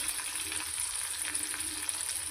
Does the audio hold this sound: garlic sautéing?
yes